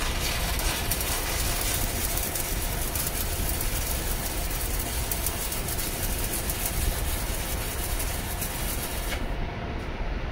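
Stick welding with an SAP EB121 basic electrode on a Vevor MIG-250 multiprocess welder: a steady, loud, continuous crackling hiss of the arc runs throughout without pause.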